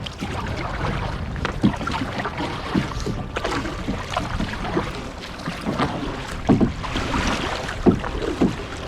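A boat is paddled while fishing: steady splashing paddle strokes and water swishes sound close, with wind buffeting the microphone throughout and no talking.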